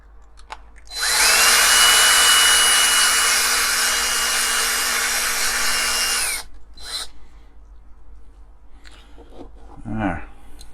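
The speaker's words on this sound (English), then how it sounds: "just drill down a bit into the head of the rivet" A power drill whirs at high speed for about five seconds, drilling into a rivet head on a Corgi Ford Consul model, winding up and then down, followed by a few brief clicks and handling noises.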